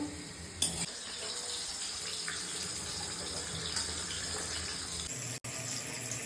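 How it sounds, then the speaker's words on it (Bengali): Rice poured into a pot of boiling water makes a steady rushing, bubbling wash for several seconds, opening with a short knock and briefly cutting out near the end, with no talking. "এখানে দেখো জলটাও ফুটে গেছে, এবার চালটা দিয়ে দেবো।"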